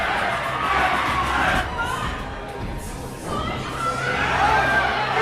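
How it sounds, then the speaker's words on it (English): Filipino boxing arena crowd cheering for fighter Kent in a title bout, loud waves of shouting that dip briefly midway and then surge again, with scattered voices within the din. "You hear the crowd support behind Kent."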